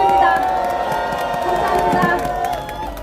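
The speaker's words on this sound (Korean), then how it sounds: "다시 한번 큰 박수 부탁드립니다" A crowd at a rally cheers and claps, with a sustained roar of voices and shouts over scattered applause, loud and continuous.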